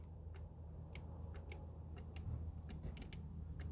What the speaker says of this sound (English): Just the relay clicking.